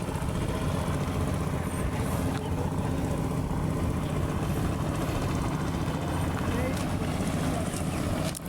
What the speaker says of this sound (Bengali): দূরে একটি মালবাহী এবং মানুষবাহী ট্রলার যাচ্ছে আর কি, যেটা দোতলা